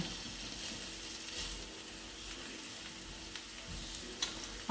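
Onion sweating in a fry pan for a vegetarian broccoli potato pasty filling, giving a steady soft sizzle and crackle throughout, fairly quiet, with a faint clink near the end and no talking.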